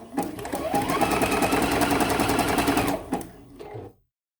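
Sewing machine zigzag stitching an appliqué quilt block, a rapid steady mechanical whir for about three seconds, then a short pause and a brief second burst before stopping.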